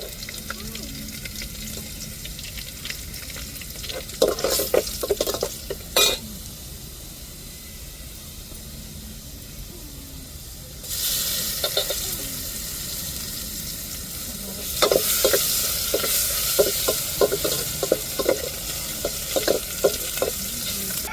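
Pepper rasam made with ground pepper, cumin, green chili, garlic and tamarind sizzles in a pan as it is stirred, a steady hiss broken by bursts of scraping and clattering strokes, with louder sizzling toward the end.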